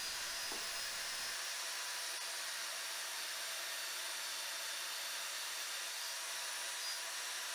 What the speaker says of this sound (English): the finger sander will clean up the inside